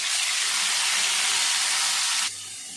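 Curry leaves, green chili, onion and tomato sizzle loudly in hot oil in a pan, a steady broad hiss that drops off sharply near the end.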